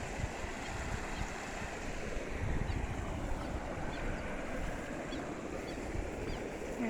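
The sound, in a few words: water rushing down from a reservoir spillway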